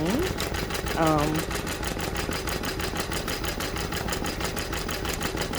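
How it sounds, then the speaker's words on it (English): A Bai embroidery machine stitches during a tension test, giving a close, steady, fast rhythmic whirring with regular pulses, while a person speaks over it. "Right now what I am doing is a tension test of my machine."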